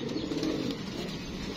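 A pigeon kept by a fancier coos softly and steadily while preening and shaking out its feathers, close by with no talk over it.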